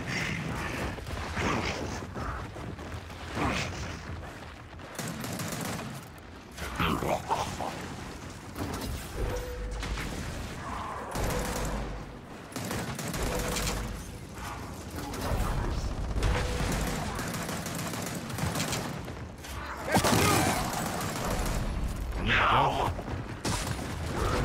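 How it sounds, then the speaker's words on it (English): Enemies firing Dropshot weapons in Gears of War 4, a busy stretch of mechanical clanks, ratcheting clicks and bursts of gunfire, some loud and close, others farther off, with occasional talk over them. "especially now that they have drop shots. You can already hear them using it."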